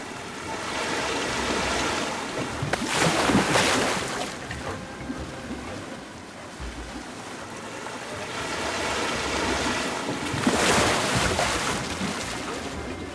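Rushing water of a volcano-themed flume ride in Planet Coaster 2, a steady splashing wash that swells twice, with no talk over it.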